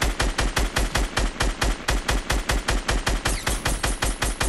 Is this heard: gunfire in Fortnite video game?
yes